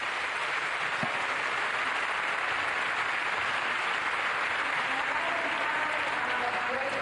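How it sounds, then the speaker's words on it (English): Applause from a conference audience for a panel at the COP28 climate summit, a sustained wash of many hands clapping at a moderate distance, steady throughout and mixed with crowd murmur. "So let's give another round of applause to our panel."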